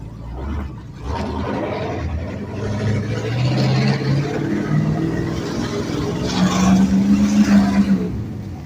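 A Ford LTD engine runs with a steady, loud roar that swells and revs as the car drives, with no brakes and the transmission shifting.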